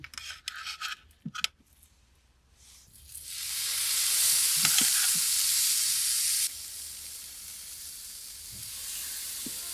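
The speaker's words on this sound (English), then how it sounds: "we'll get those steaks on there. We've got this grill up real nice and hot." Ribeye steaks hit a very hot grill with a loud, steady sizzle that swells after a few scattered clatters and holds close and strong, easing slightly partway through, with no talking.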